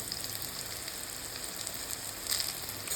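Asafoetida sizzling in hot oil with curry leaves and halved red chillies, a steady close-up crackle of frying that holds at an even level throughout.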